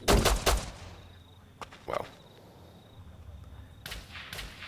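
Pistol gunfire in the game Rust: a quick cluster of sharp shots at the start, a couple of isolated cracks in the middle, then two more shots near the end, loud and close with no talking.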